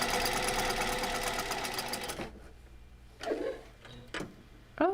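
A sewing machine stitching fabric runs loud and steady with a fast mechanical whir for about two seconds, then stops, leaving a few scattered handling knocks and rustles.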